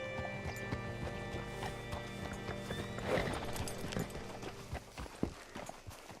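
In Red Dead Redemption 2, a horse's hooves clip-clop steadily nearby with a whinny midway and brief footsteps, heard fairly faint under light ambient game sound.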